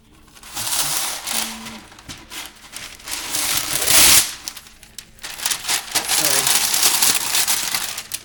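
Parchment paper crinkles and rustles in bursts while a small square baking dish is lined in a kitchen, loud and close, with a sharper crackling peak midway.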